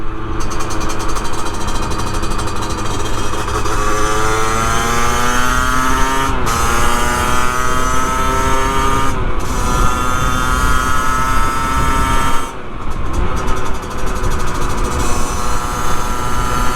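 A Rieju MRT50 50cc motorcycle engine drones loud and close throughout a ride, its pitch rising through gears with brief drops at shifts, and no talking.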